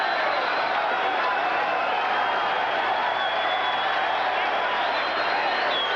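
A boxing crowd in Las Vegas applauds at the end of a round in the Larry Holmes versus Trevor Berbick heavyweight fight, a continuous wash of distant clapping and murmur.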